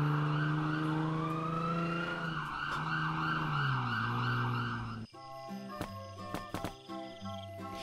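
Toy police car with big wheels wails out an electronic siren, a steady rising-and-falling tone for about five seconds, then a short burst of bright toy music and beeps, close and loud with no talk.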